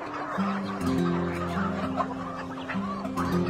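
Chickens and turkeys clucking and gobbling close by on a farm, several birds overlapping in a steady, busy chorus with no talking.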